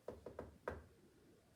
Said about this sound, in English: He was just starting to snore when there was another knock at the door.